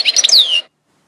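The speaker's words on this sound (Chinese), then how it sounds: "金翅雀" A goldfinch gives one brief, bright call: a quick cluster of high chirps sliding into a clear, descending whistled note, about half a second long, close and alone before silence.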